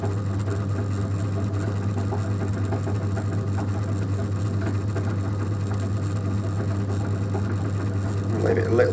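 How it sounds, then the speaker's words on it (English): A pottery wheel spinning with a steady low motor hum and a faint persistent rattle, constant and close, ending in a slight surge as it slows. "Slow the wheel down. It's annoying rattling still."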